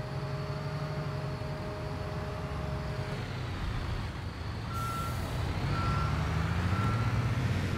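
Construction vehicle in the Bau-Simulator video game drives steadily with a loud engine drone while a reversing beeper sounds in spaced tones, first continuous and then in short repeated beeps.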